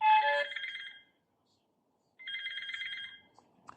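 Incoming call ringtone from a SYMYNELEC 2K 4MP indoor surveillance camera, two bursts of a bright warbling electronic ring separated by about a second of silence, close by.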